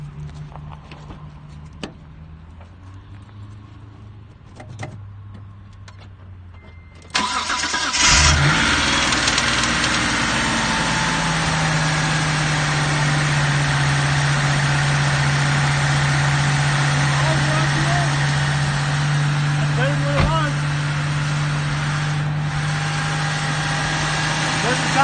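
A 1993 Mitsubishi 3000GT SL engine cranks and catches after a few quiet seconds, then settles into a loud, steady idle with a low hum, and a voice speaks over the running engine.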